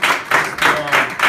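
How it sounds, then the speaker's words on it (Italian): An audience at a martial arts event in Sorrento, Italy, in 2016 applauds Grandmaster Richard Bustillo, the clapping swelling in loud rhythmic pulses, roughly four or five beats in quick succession. "Bene, un applauso a sottolineare"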